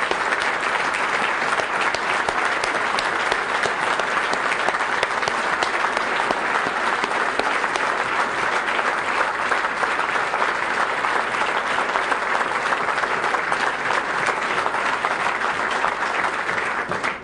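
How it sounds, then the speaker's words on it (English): Audience at a political campaign rally applauding, loud dense clapping that holds steady and continuous for the whole stretch with no talk over it. "I think you all deserve a real round of applause."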